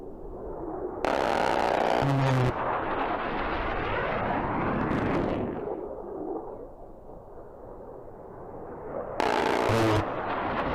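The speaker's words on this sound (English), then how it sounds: "Just take a listen to these rotary cannons, man." Two short, loud bursts of rapid rotary cannon fire from an F-35 fighter jet in GTA Online, separated by a long roaring jet engine rush that swells and fades.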